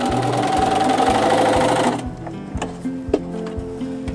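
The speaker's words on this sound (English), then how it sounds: "I'm going to do some test stitches, and I'm going to find a stitch that feels right with the fabric" A sewing machine running test straight stitches with a number 1 foot on slightly stretchy fabric: a loud, fast, steady mechanical whir and rapid needle chatter, then slowing into a few separate clicking stitches as it winds down.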